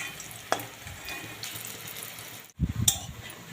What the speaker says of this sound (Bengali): এইভাবে উল্টে পাল্টে আমি একটু লাল লাল করে ভেজে নেব।